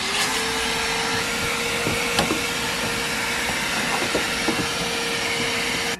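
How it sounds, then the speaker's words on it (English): A vacuum cleaner runs inside a VW GTI car interior during a refit. A steady, loud whining hiss holds for six seconds, with small bumps and clicks as the nozzle moves around. "We need to vacuum everything out."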